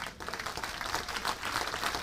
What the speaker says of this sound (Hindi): तालियां कमजोर हैं दोस्त आपकी।